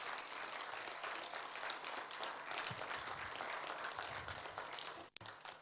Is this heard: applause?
yes